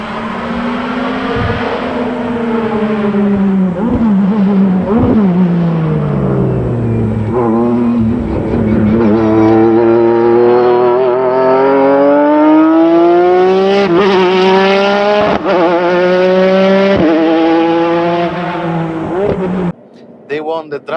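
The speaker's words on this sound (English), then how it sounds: "these clips refer to the year 2017 of WTCC, where my racing driver was Ryo Michigami" A 2017 WTCC touring race car accelerates hard on track, its engine climbing through gears with loud rising whines, sharp shift breaks and a brief cut near the end.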